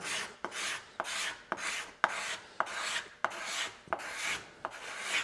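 Knife carving across the grain of wood while shaping a carved wooden fan, a steady series of about ten rasping scrapes, each opening with a sharp click, close and alone.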